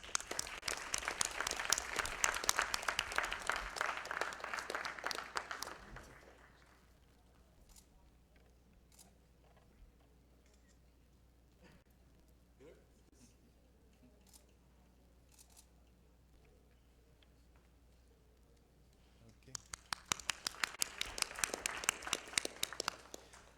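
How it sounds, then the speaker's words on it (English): Audience applause at an awards ceremony: a burst of clapping fades out, a quiet stretch follows with faint sounds, then a fresh round of clapping rises at the end. "Please let's give Chancel a round of applause"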